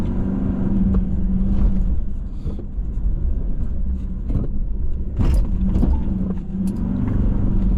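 A 4x4 drives at night through the streets of a Brazilian favela, a close engine rumble with rattles, bumps and jolts over speed bumps and uneven ground, varying in intensity without speech.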